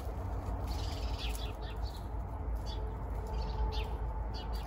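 Various birds calling from an Emburana tree, short chirps and tweets scattered at moderate distance over a low background rumble, with no talking.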